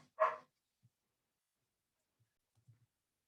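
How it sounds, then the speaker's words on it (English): A single short dog bark from next door, faint and distant, followed by silence and a few soft low thumps. "the dog's barking. That's from next door"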